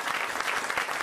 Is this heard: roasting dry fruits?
no